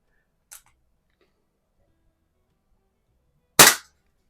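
A 1950s Challenger Arms Plainsman .22 caliber CO2 pistol fires once: a sharp, loud, close crack that stands alone after a faint click and near silence.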